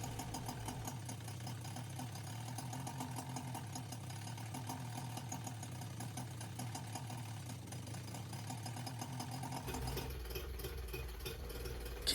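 A Mercury 25 hp two-stroke outboard engine idles steadily with a low, even chug, then the tone shifts abruptly near the end as a hiss of fogging spray joins in.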